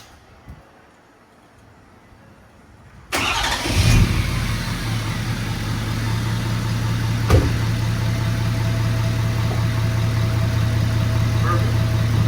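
A Ford 6.7 Powerstroke diesel truck fires up after a quiet moment with a sudden loud crank and catch, then settles into a steady, heavy, close-up idle that rumbles on, with voices faintly underneath.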